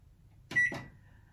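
A combination microwave oven with a built-in oven function being set to preheat gives two quick electronic beeps alongside soft button presses, close and clear in a quiet kitchen with no talking.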